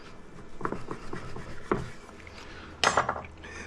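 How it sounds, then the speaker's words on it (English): Knife cutting half-inch slices of cooked turkey breast for a Kentucky Hot Brown, with soft clicks and scrapes against a board and dish, then a louder clatter near the end; no talking. "this is turkey breast. I'm gonna get maybe like a, you know, like a half-inch slice here"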